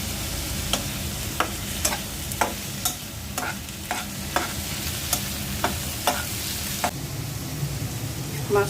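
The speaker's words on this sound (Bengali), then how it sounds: "মাছটা কিছুক্ষণ কষিয়ে নিলাম," Shrimp frying in a pan with salt, stirred steadily, with a constant close sizzle and regular sharp scraping strokes of the spatula at roughly half-second intervals.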